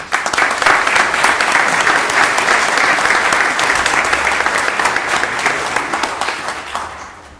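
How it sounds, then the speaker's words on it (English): A board of supervisors meeting crowd gives sustained applause, many hands clapping densely and steadily at close range for several seconds before it thins out at the end. "Let's give them a round of applause."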